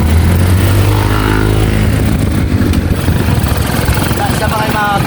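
A motorcycle engine idles steadily and loud throughout, a low continuous chugging with slight variation, while people talk over it.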